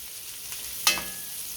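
Onions fry gently in a cast-iron skillet, a soft, steady sizzle marked by one sharp clink or scrape of a utensil partway through.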